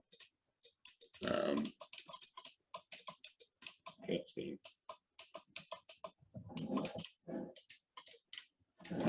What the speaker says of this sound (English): you'll be able to hear those relays clicking